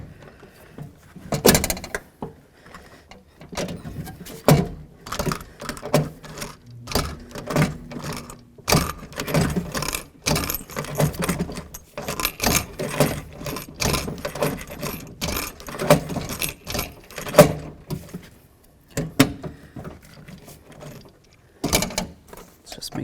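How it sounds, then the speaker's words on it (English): Rivets are set into the window regulator of a 1988-2002 GMC Sierra 1500: repeated sharp metallic clicks and snaps from a rivet tool, close and irregular, with quiet stretches and some clatter between. "putting in these rivets to hold the window regulator"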